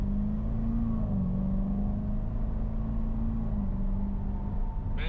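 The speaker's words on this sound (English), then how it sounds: "the automatics, they sound so good when they shift" Automatic car pulling away hard, its engine note rising steadily and dipping at gear shifts, loud and close with continuous rumble throughout, no talking.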